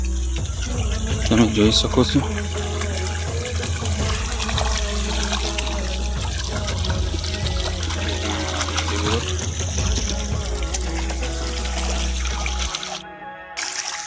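Borewell water gushes steadily into a farm field, a continuous low rushing flow with someone talking over it throughout.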